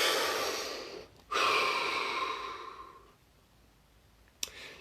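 One long, deep breath drawn in and released close to the mic, a soft airy rush lasting a few seconds and fading into near silence, then a brief click.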